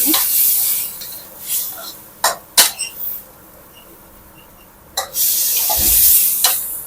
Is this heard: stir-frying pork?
yes